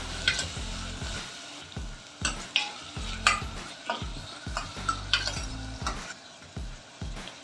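Onion and green chilli sautéing in a pan for pepper mutton masala, with steady sizzling broken by repeated scraping stirs of a spoon against the pan, close and fairly loud, no talking.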